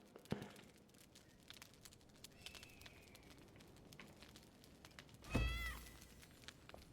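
In the survival game Enshrouded, a cat gives a single short meow near the end over soft, crackly game ambience.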